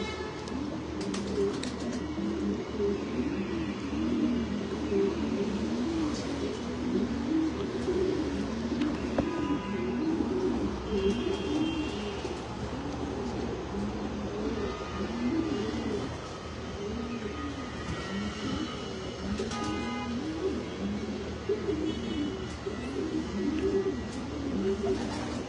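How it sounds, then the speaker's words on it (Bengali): Racing pigeons in a loft coo steadily and densely in a low, continuous chorus, with occasional wing flutters and faint talk in the background. "কবুতরগুলো এখানে আছে।"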